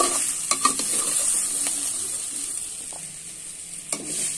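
Stuffed brinjals browning in oil in a pan while being turned, a continuous close sizzle with occasional spoon or pan clinks, no voices.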